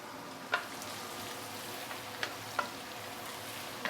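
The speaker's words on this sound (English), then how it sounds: "let's saute this for a minute or 2 before we continue" Fresh herbs sauteing in a pan for Chinese curry chicken, a soft steady sizzle with a few light scraping clicks of a utensil, quiet and alone.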